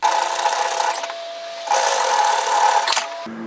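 A sewing machine top stitches a seam on a jacket at a close distance, running in two loud steady stretches with a brief slower pause between and a low hum as it stops.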